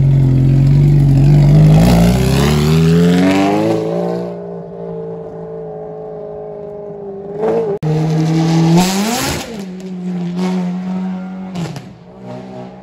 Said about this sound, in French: Écoutez le bruit de cette F430.